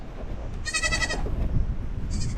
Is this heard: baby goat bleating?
yes